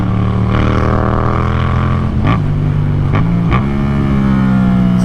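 A Yamaha FZ07 motorcycle riding fast, its engine droning loud and steady with a few brief dips in pitch as the revs shift, plus constant wind rush.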